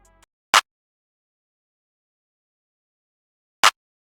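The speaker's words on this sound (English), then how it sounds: "so it's actually a clap and a snare." Two sharp, bright layered clap-and-snare hits from a rage-style beat, spaced about three seconds apart, each short and punchy with silence between them.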